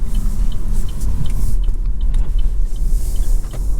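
A 2020 Buick Encore GX with a 1.2-liter turbo engine accelerates on the road, its low engine drone and tire rumble holding steady and close, with light rattles from the cabin.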